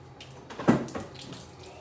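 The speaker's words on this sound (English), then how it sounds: "it is time for hand washing" Tap water runs briefly for hand washing in a quick, faint splash that swells and fades within a couple of seconds.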